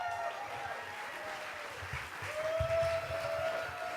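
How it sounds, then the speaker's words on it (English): Steady applause and scattered cheering from a storytelling event audience welcoming the next teller, a constant wash of clapping with no talk over it. "let's get loud for our next storyteller, Bryan, everybody!"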